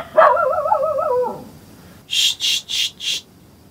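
A dog near a tent at night gives a short wavering howl-like whine, then after a pause four quick sharp barks in a steady rhythm, close and loud against a quiet background.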